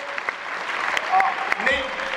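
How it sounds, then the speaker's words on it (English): Audience applause for military veterans at a standup comedy show, scattered claps from a modest crowd, fairly soft, with talk running over them. "give them a round of applause"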